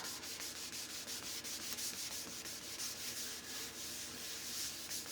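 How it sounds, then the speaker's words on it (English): A microfiber cloth rubs excess wax off a waxed door tag in steady, close, rhythmic strokes that keep going without a break, with no one speaking. "I'm going to take a clean part of this, what is it, microfiber cloth, rub off the excess."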